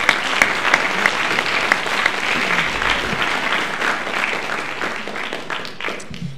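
A crowd applauds at a high school winter band concert, dense steady clapping from many hands in a hall, loud and sustained, gradually thinning toward the end.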